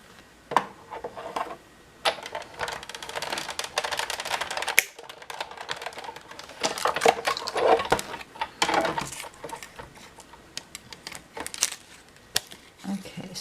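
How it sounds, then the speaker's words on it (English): A Big Shot die-cutting machine cranked by hand as paper runs through it, giving irregular clicking and ratcheting bursts with soft rustling between them, up close. "I'll run that through the Big Shot."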